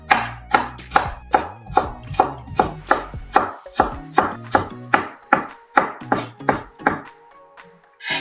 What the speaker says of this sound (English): So done chopping.